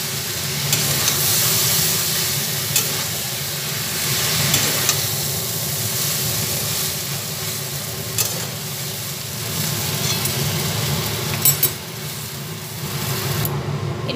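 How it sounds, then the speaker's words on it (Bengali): Chow mein tossed with egg, onion and garlic in a hot pan, giving a loud continuous sizzle with scraping stirs and occasional utensil clicks throughout. "এবারে চাউমিনটা ভালোভাবে পুরো ডিম, পেঁয়াজ আর রসুনটার মধ্যে ভালোভাবে মিশিয়ে নিলাম"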